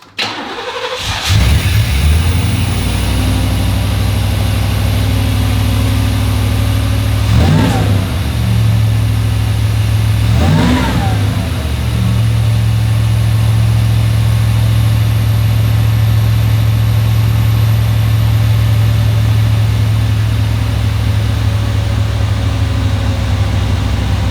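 A Third Gen Camaro's Chevrolet 305 TBI V8 with an open air cleaner cranks, fires up and settles into a steady loud idle close by, with two brief blips of throttle partway through.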